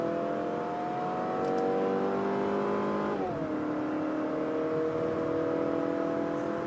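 The 2.5-litre engine of a 2024 Mazda 6 holds a steady, smooth drone under load, then its pitch drops abruptly as it eases off and settles into a lower, even hum with no talk.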